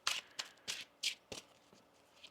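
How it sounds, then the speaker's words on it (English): Tarot cards shuffled by hand in close, crisp riffling bursts, about six quick rustles in a loose rhythm, quiet and alone. "One more shuffle"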